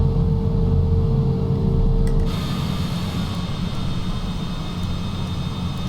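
Aircraft engine shutting down in Microsoft Flight Simulator 2020. A loud steady engine drone drops away about two seconds in, leaving a quieter airy hiss.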